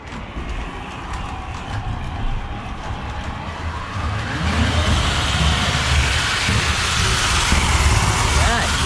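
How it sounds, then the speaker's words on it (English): A model steam train engine on a layout runs fast, its motor whirring and rising to a louder, steady rush toward the end, with voices talking over it early on. "That engine goes fast."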